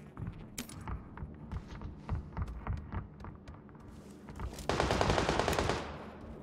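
Gunfire in the battle royale game PUBG, a quick run of sharp rifle shots followed by a denser burst of automatic fire, crisp and fairly close, with scattered clicks and footsteps in between.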